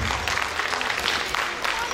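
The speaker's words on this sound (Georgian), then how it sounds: "აპლოდისმენტებად" Audience at a children's summer concert claps steadily, a dense, loud wash of applause with no break from start to end.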